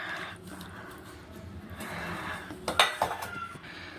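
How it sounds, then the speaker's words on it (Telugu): Fried tomato and brinjal pieces tipped into a pan for tomato vankaya pachadi, heard as a short cluster of clinks and scrapes of metal utensils near the end, over faint kitchen background. "ఈ టమాటా ముక్కలు ఈ వంకాయ ముక్కలు వేసేద్దామండి"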